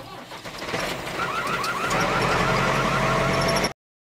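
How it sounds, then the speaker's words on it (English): A tractor engine rumbles loudly and steadily for about three and a half seconds, building slightly, with warbling higher tones over it, then stops abruptly. "Tractor."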